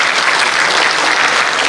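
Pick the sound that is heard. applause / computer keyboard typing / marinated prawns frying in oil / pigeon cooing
applause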